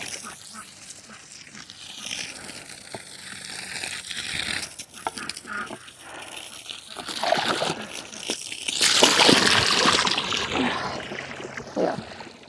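Water from a garden hose splashes and sloshes into a duck water container, with intermittent crinkling and handling noises close by, building to a louder, fuller splash toward the end.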